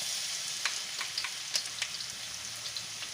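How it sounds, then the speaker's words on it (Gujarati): Garlic dropped into hot oil in a pan while making a corn-kernel gravy curry, giving a continuous bright crackling sizzle with sharp popping spatters throughout, no voices. "તો હવે આપણે એમાં પહેલાં લસણ નાખશું."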